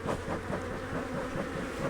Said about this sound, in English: this is a honey-bound hive that is packed full of bees